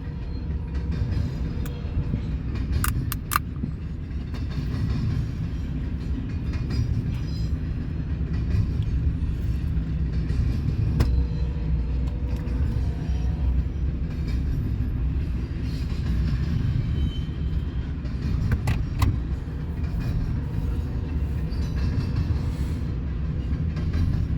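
A train rolls past in Fremont, Nebraska, a steady heavy rumble of railcars with occasional clanks and a couple of sharp metallic squeals, continuous and fairly close throughout.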